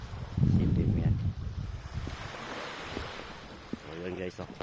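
Gentle ocean waves wash against the shore in a steady rush, with wind buffeting the microphone and a person's voice heard briefly.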